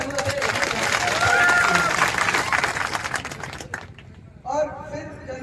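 Applause from an audience at a cricket tournament opening ceremony in Deeg, a dense clapping roar that fades out, with someone speaking over a public address system.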